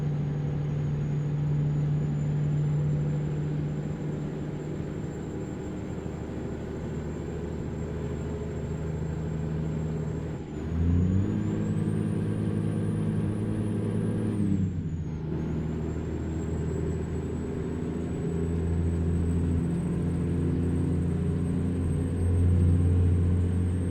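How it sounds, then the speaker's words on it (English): A Peterbilt 350 truck with a 475-horsepower engine and 18-speed transmission in American Truck Simulator idles with a deep steady rumble, rising in pitch briefly midway as the revs climb, then settling back, with an air brake hiss. "Engine sounds pretty cool."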